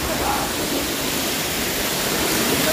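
Neer Waterfall in Rishikesh roars as a dense, steady rush of falling water, loud and unbroken throughout with no voices.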